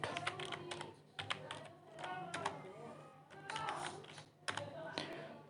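A search being typed on a computer keyboard: quiet, close bursts of rapid keystroke clicks with short gaps between words.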